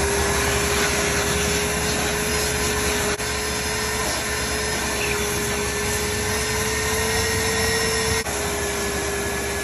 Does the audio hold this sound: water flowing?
no